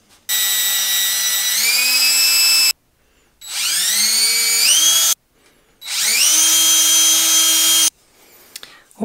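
A power drill bores a series of holes for a DIY RC print washer, three long loud whining runs with pitch rising as each bit spins up, separated by short pauses.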